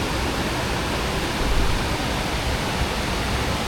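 A river rushing beside Loteshwar temple, a Mahadev shrine set on a large riverside boulder at Dugwe in Konkan, making a steady, broad, unbroken roar with no voices.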